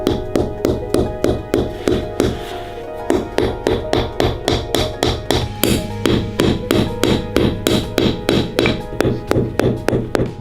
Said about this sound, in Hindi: यहाँ के लोग जरूरत पड़ने पर जमे हुए फलों को हथौड़े की तरह भी इस्तेमाल कर सकते हैं।